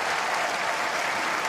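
Dense, loud applause from the audience at a stallion show, a continuous even roar of many clapping hands with no pauses.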